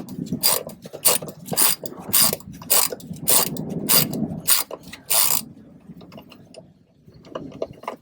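A ratchet turns out an old 12 mm bolt in the rear cargo area of an 80 Series Toyota Land Cruiser, with close, rapid clicking bursts in a steady back-and-forth rhythm, then quiet with faint handling sounds.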